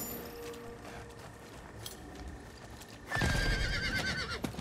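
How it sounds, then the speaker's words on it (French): In the Diablo 4 video game, a horse gives a loud whinny close by after a quieter stretch, with hooves clip-clopping around it. "Oh, il a un cheval aussi, lui."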